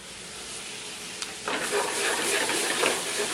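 Apples frying in butter that is starting to brown, a steady close sizzle that grows louder and busier halfway through as the pan cooks vigorously, with no talking.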